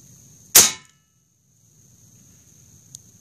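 A single sharp, loud crack from an AirForce Escape UL .22 air rifle, fired from a 200–300 bar fill, cuts through near silence, decays quickly, and is followed later by a faint distant tick.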